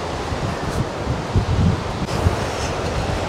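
Strong wind at a beach campsite during a storm roars in a steady broadband rush, buffeting with low rumbling gusts throughout.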